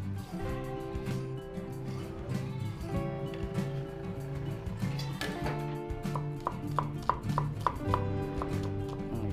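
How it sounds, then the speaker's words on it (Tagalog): A knife chops a bell pepper into strips on a cutting board for a beef and bitter melon stir fry, giving a quick series of close, crisp cuts and taps over steady kitchen background noise. "At gagayatin natin ng strips o pahaba."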